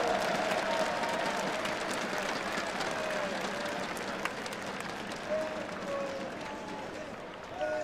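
Counter-Strike esports fans at a live major tournament, a big arena crowd cheering and applauding in a continuous roar that slowly fades, with a commentator talking over it.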